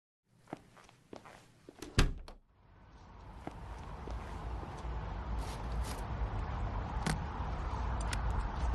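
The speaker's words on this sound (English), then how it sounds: "With the tape there, the door won't fully close." In the video game Nobodies: Silent Blood, a door taped so it won't fully close gives a few sharp knocks and a heavy thunk, then a low rumbling ambience swells steadily underneath.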